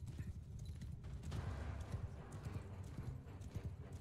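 Horse archer hoofbeats in the Bannerlord video game form a steady, rapid clip-clop of galloping hooves, moderately faint and continuous throughout.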